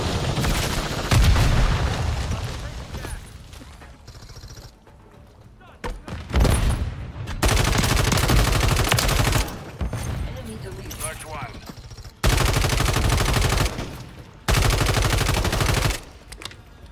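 Bursts of automatic gunfire and explosions from the video game Modern Warfare 3 on PS5, in loud repeated volleys separated by quieter gaps, with someone talking excitedly throughout.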